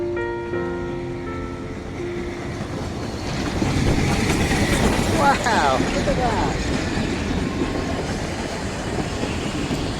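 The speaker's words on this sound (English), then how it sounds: "The little Festiniog Railway. Coming to a stop." A small Ffestiniog Railway narrow gauge train rumbles and clatters steadily nearby, growing louder as it rolls in and comes to a stop, while a person speaks briefly over it.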